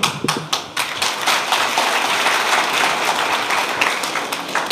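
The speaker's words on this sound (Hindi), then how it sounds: "तो हमारे नौजवानों ने ताली बजाई।" A crowd of young supporters claps at a political rally speech in Lucknow. A few sharp taps open it, then a sustained wash of dense applause that holds steady, fairly loud and close, with no talking.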